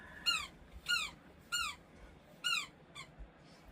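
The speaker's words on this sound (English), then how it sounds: "She's got her squeaky toy." A dog's squeaky toy squeaks five times in uneven bursts, fairly close and clear over a quiet room, with a faint sixth squeak near the end.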